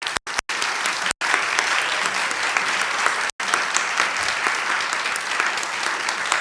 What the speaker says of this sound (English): stand up because I think they all need another round of applause.